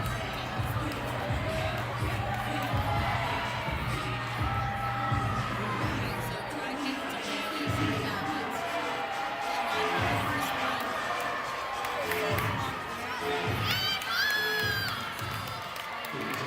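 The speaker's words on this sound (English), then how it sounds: "There go those cheers I was talking about." Women's college gymnastics teams from Springfield, Ithaca, Ursinus and RIC shout their event cheers in an arena, a loud sustained crowd roar of chanting, whoops and clapping, with high shrieks near the end.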